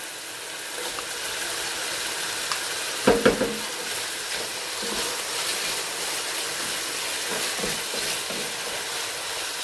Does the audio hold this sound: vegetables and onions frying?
yes